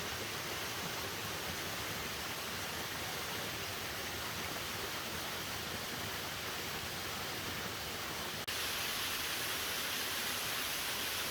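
Fairy Falls, a rainforest waterfall near Cairns, pours in a steady, dense roar of broadband rushing water that fills the whole stretch without pause, close and loud, with no voices.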